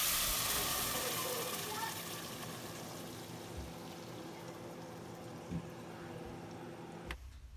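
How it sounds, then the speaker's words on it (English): Salsa frying in hot oil while making homemade enchilada sauce, starting as a loud hissing sizzle that gradually quiets to a softer bubbling crackle with a few clicks and knocks. "When the oil is really hot, it's time to add in the salsa."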